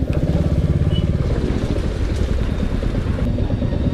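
A motorcycle on a trip from Konkan to Pune runs loud and rough, its engine drone close and continuous with a heavy, rattling pulse and no voices over it.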